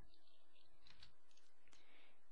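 A computer keyboard being typed on in a short burst of faint, quick key clicks, a few taps spaced through a quiet room.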